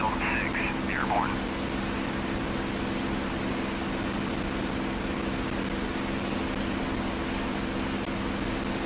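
A P-51D Mustang's engine drones as a steady, even roar from start to finish in a DCS multiplayer flight over Normandy, with a short radio voice near the beginning.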